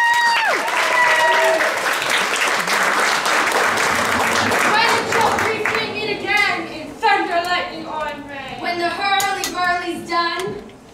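An audience claps in a dense, steady wash at a young performers' staging of Macbeth, then the applause fades as young voices begin speaking lines over it.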